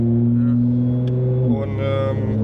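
Nissan GT-R with an MH Pipes motorsport exhaust system running, a steady loud droning engine tone that shifts in pitch partway through, heard close and continuous.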